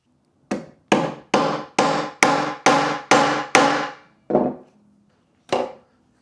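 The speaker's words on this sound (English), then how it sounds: "Then I take a hammer with a flathead to kind of flatten this tip out." Flat-headed hammer striking the tip of a leather sandal lace, nine sharp close blows: eight in a steady rhythm, then a short pause and a final single strike, with no talking.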